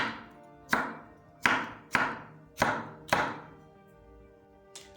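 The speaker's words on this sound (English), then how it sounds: "Now we are going on to the green pepper. We're going to cut it very thinly." Knife slicing a green pepper very thinly on a cutting board for a Ugandan pork tongue stir fry, six distinct, evenly spaced chopping thunks close up, each ringing briefly before the next.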